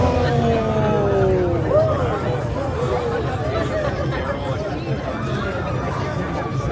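A crowd at Knott's Scary Farm walks along near the railroad tracks, a dense, steady hubbub of overlapping chatter and footsteps that stays close and constant throughout.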